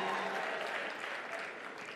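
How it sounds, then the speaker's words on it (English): An audience at a Merck Foundation Africa Asia summit applauds, a brief dense burst of clapping that holds steady and eases slightly toward the end. "Clap more, please. Clap more."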